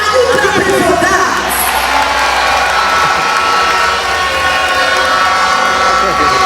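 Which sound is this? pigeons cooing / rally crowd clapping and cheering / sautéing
rally crowd clapping and cheering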